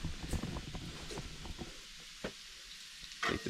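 Bacon fries in a skillet at a frozen forest campsite, a soft steady sizzle under occasional knocks and clatters of utensils, fairly close, with no talking.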